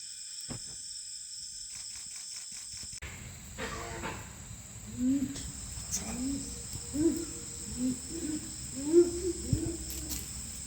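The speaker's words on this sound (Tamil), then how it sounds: "இது என்ன சவுண்டு? லங்கூர்" A langur calls at night in Bandipur forest with a series of low, hoarse grunting whoops at irregular intervals, heard over a constant chorus of crickets and insects.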